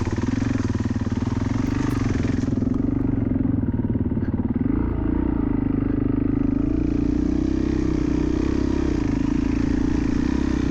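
Husqvarna dirt bike on a muddy cross-country course runs with a steady, loud, close engine drone that holds throughout, rising slightly in pitch midway as it revs and then settles back.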